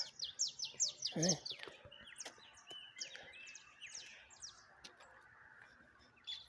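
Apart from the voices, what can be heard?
birds singing, including coleirinha and canarinho-da-terra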